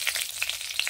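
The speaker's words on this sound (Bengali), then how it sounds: "এখানে এই তেলে আমি একটি লঙ্কা ফোড়ন দিয়ে দিচ্ছি।" Dried red chili and five-spice seeds crackle and spit in hot oil for a Bengali green pea dish, a brief dense sizzle with sharp pops and no talking.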